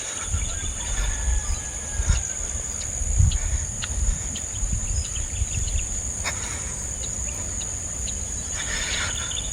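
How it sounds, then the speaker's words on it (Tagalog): Crickets chirping outdoors at dawn in the cool early morning, a steady high continuous trill throughout, with low rumbling ambient noise underneath and a few faint distant sounds. "Huni ng mga ibon, mga kuliglig, at malamig na hangin"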